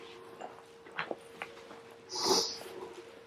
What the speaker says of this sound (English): Excuse me if I sniff a bit as well.